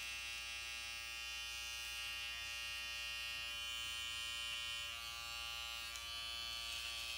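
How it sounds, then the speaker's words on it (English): An electric hair clipper buzzes steadily and close up while outlining a neckline during a tapered barber cut, a constant whining hum with no talk. "we're going to turn the clipper around and we're going to shave to it"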